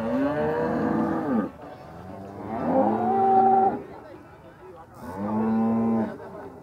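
Three long, drawn-out cow moos, loud and close, each separated by a short pause, at a cattle market in Campina Grande, Paraíba, Brazil.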